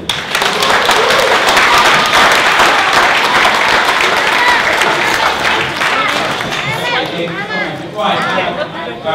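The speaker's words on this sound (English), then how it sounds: "Let's give him one more clap again." A hall audience at a Kenya Calgary Association Jamhuri Day gathering gives a full round of clapping that stays loud and continuous, thinning toward the end as voices and chatter rise through it.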